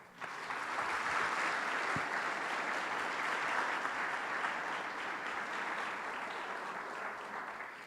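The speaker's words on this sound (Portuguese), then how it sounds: "Pode aplaudir o Senhor." A church congregation applauds together in a steady, dense wash of clapping that fills the space from start to finish, holding a fairly even level throughout.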